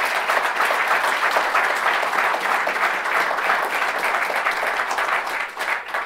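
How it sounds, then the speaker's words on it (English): Sustained audience applause at a conversation event with football coach Tom Coughlin, a dense, steady wash of many hands clapping fairly close for the whole stretch, tapering slightly near the end. "that deserves a round of applause."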